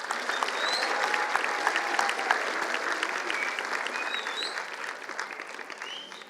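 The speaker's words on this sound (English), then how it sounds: "Let's have a round of applause." Steady, dense audience applause fills a college graduation convocation hall, a sustained wash of many hands clapping that tapers slightly near the end.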